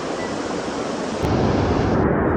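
A strong river current rushes at Wawa Dam, making a loud, steady roar of turbulent water up close that gets fuller and heavier partway through, with no voices.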